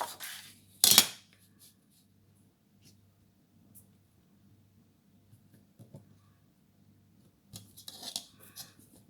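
Scissors snip through paper for a handmade flipbook: one loud, close cut early on, then quiet small handling rustles, and a second cluster of shorter snips near the end, without talk.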